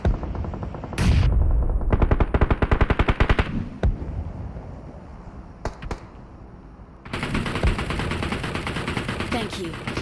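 Loud bursts of automatic gunfire in a squad-based video game match, with rapid rhythmic volleys, a few isolated shots, and a long sustained barrage at the end, while players talk over it.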